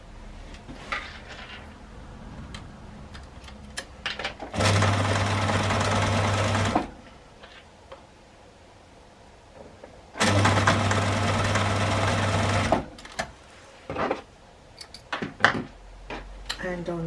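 A sewing machine stitching the boxed corners of a crossbody bag runs in two steady bursts of a couple of seconds each, loud and close, with handling clicks and fabric rustle between.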